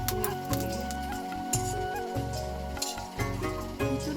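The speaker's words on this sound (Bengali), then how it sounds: "আলু ভাজা তো আমি এখন করছি" Potatoes fry in hot oil with a steady, close sizzle and a low droning hum beneath it, punctuated by small crackles.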